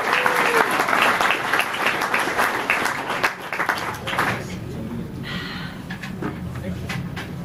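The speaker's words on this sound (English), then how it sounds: "How about a big round of applause for these guys up here?" Live concert crowd at Tamworth applauding and cheering loudly for the band, the clapping dense at first and then thinning out as it fades, with a voice talking over it.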